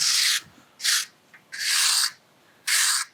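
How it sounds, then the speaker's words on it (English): A trowel scrapes sand flat for a paver or slab base, making four separate rasping strokes of varying length, close and fairly loud, with no talk. "Just trowel that as flat as you can."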